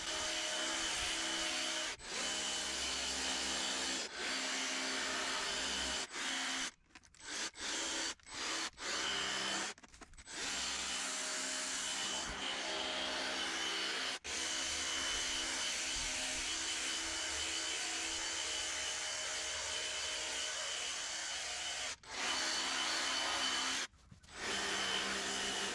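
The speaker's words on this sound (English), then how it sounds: "show you the performance of the hedge trimmer so you can see what it sounds like and how it cuts" A Toro 60V battery hedge trimmer powered from a backpack battery cuts through shrubs, giving a steady buzzing motor whine with short pauses and brief cut-outs as it chews through branches.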